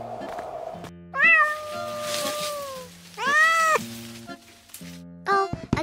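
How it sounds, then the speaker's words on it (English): A cat stuck up in a tree on a rainy day meows in three clear, drawn-out calls, close and loud, with rhythmic music playing underneath. "Oh, a cat trapped on the tree."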